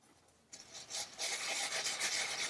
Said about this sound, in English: rub it against the bubble wrap right along the bottom to create the bottom of your piece